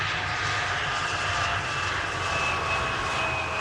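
An aircraft arriving at Amsterdam Schiphol Airport gives off a steady, loud engine roar that holds unbroken for the whole stretch, with no voices over it.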